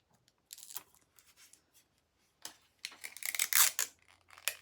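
Adhesive tape is pulled off a roll in short, crackly rips, quiet and close, with a few small handling rustles between the strips, used to hold a craft cutting die in place.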